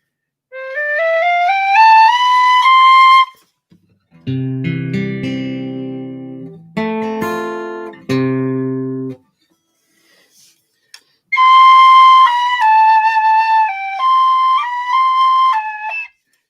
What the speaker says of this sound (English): that's the penny whistle